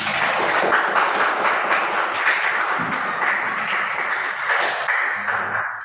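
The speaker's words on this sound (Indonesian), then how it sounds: "Tepuk tangan untuk kita semua." Steady applause from a group clapping together, dense and continuous for several seconds, fading slightly at the end.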